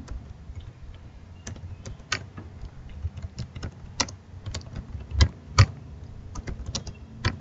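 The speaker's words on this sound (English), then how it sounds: "here I am typing the same program what you discussed previously" Fingers type steadily on a computer keyboard, with quick, close clicks and a few louder key strikes over a faint low hum, and no voices.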